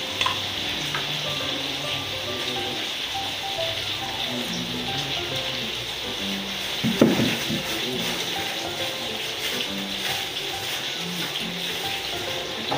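Apple slices frying in hot oil, a continuous close crackling sizzle with stirring, plus one brief sharper scrape or clatter midway, no one speaking.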